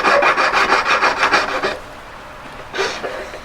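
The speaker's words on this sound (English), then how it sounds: "But it's important to keep sawing." Hand saw rasping through a solid metal piece while shaping a tapered baguette collet, rapid rhythmic back-and-forth strokes, close and loud, then a pause and a brief final stroke.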